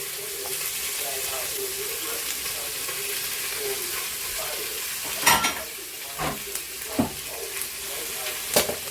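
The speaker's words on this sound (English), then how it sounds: "now that the pan is heated up for the greens, we are going to add diced onions here" Diced onions hit a heated pan for cooking greens and sizzle with a steady low crackle, joined by a few louder clanks and scrapes of utensils against the pan toward the end.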